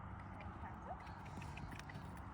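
A horse cantering on the lunge during a riding lesson, its hoofbeats a steady rhythmic thudding close by, with an instructor speaking over them.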